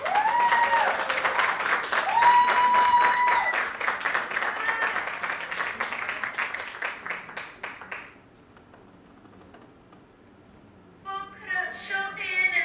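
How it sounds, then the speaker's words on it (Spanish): Audience applause for a belly dance ballet troupe performing oriental dance, a dense, loud burst of clapping with voices over it that fades out after about eight seconds, then quiet before a short renewed flurry near the end. "¡Fuerte el aplauso!"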